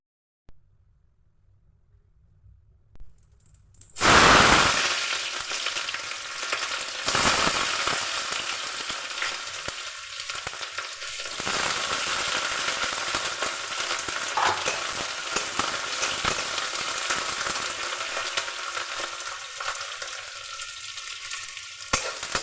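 Fish sizzles loudly in a hot pan after a quiet start, a sudden burst of crackling spatter that settles into steady frying hiss with occasional pops.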